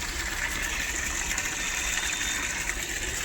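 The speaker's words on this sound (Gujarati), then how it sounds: "પાણી આવી ગયું" Steady rushing water pours continuously from a pump, a broad noisy gush with a faint mechanical hum underneath, fairly close and unbroken throughout.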